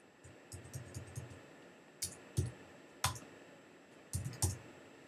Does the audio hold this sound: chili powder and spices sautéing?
no